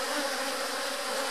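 Honey bees drone in a dense, continuous buzz from an opened hive during a split, close and steady with no pauses and no voices.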